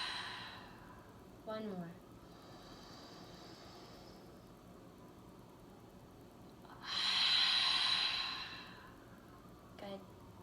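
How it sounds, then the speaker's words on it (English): A deep breathing exercise with a long, airy inhale and a strong hissing exhale, plus a brief snort-like breath, close and fairly soft, while a voice speaks briefly. "Big inhale. Pause at the top. Exhale."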